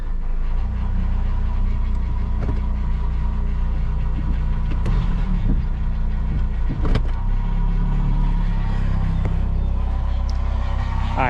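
A car engine runs noisily and steadily while the gears are worked through, a loud, close, continuous rumble with no pause across the whole stretch.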